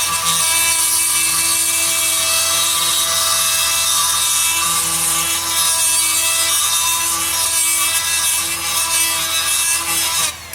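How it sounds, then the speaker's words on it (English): A high-pitched die grinder whines steadily as it bores out a hole in a fire-damaged Terex TA1EH dumper dashboard, running continuously and loud at close range. "we've just got to bore the hole out with a die grinder."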